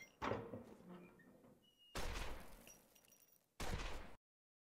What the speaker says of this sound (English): There are shots being fired indeed.